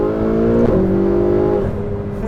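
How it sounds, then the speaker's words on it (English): A Ferrari 488 engine with a catless exhaust roars loudly at close range, its raspy exhaust note rising in pitch, then shifting gear and climbing again. "this car sounds like crap. Well, they haven't driven one with a catless exhaust on it"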